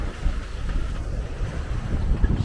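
Sea waves and strong east wind around a sailing boat at sea, with a rushing, gusty roar and buffeting on the microphone, continuous and close.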